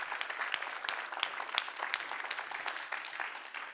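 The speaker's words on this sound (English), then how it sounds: "So round of applause as Austin heads out" Applause from an audience as a presenter, Austin, leaves the stage after his final presentation, a steady round of many hands clapping, fairly close and sustained throughout.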